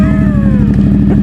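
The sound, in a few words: Ducati Monster 1200 motorcycle engine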